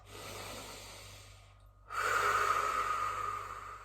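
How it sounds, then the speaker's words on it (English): Two deep, slow breaths taken close up during a seated posture stretch, a long airy inhale, a short pause, then a louder, longer exhale, heard alone without talk. "take a few deep breaths"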